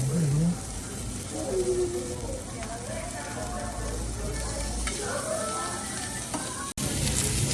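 Pork belly and other meat sizzling on a Korean BBQ grill in a restaurant, a steady crackling hiss that continues throughout, with voices talking over it.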